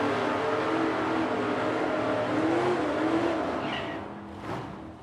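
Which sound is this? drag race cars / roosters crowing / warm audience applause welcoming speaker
drag race cars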